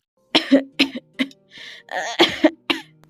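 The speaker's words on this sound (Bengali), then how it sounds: "দাদি, তোমার কাশিটা বড্ড বেড়েছে" An elderly grandmother character in an animated fairy-tale cartoon coughs in a short run of about five or six harsh, raspy coughs with a brief throat-clearing rasp in between, close and clear with no other sound.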